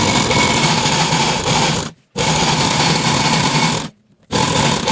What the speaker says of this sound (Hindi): इस तरह से यहाँ पर ½ इंच से थोड़ी ज़्यादा सिलाई लगा देंगे।